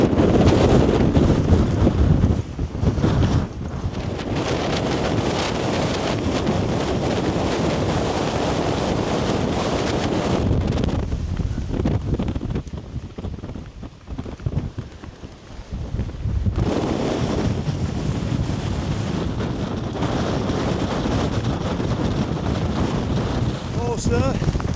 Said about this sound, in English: It's a bit breezy.